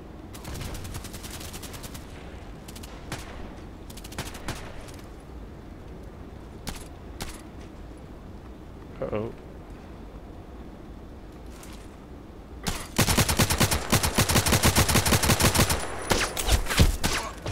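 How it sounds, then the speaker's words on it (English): Gunfire in the online shooter game Contract Wars: scattered single shots and short bursts early on, then a dense, loud stretch of rapid automatic fire near the end, with no voices. "is somebody shooting at me?"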